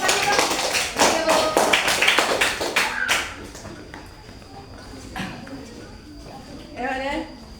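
Children in an elementary school classroom clap rapidly and loudly together for about three seconds, then the clapping stops and scattered voices and chatter continue at a lower level.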